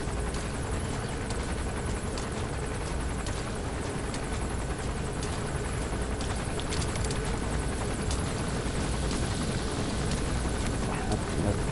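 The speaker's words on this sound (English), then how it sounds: "Chopper is like all up in my business." A helicopter in Metal Gear Solid V: The Phantom Pain thrums steadily overhead, a loud continuous rotor wash with faint rhythmic chopping throughout.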